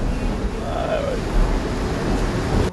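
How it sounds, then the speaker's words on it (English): Strong wind of about 22 to 25 knots gusting 30 roars across the microphone on a catamaran at sea, with waves rushing and sloshing against the hull in a continuous loud wash. "Wind's knocking 22, 25, gusting 30."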